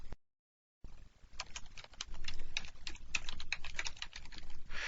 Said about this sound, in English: I'll just type it in really quickly.